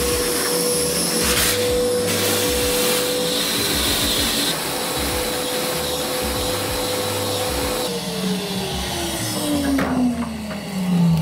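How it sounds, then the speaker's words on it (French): A vacuum cleaner sucks the last water off a drained pool floor, a loud, steady roaring whine that holds constant, then drops in pitch near the end as the load changes, with no talking. "là j'aspire ça avec l'aspirateur, ça marche plutôt bien"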